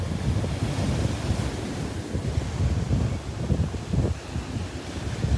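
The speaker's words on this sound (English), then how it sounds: "Just love watching the waves splash around the trees." Ocean waves splash around trees on the beach at Delnor-Wiggins, a close, rolling surf with uneven surges and wind rumble on the microphone, no voices.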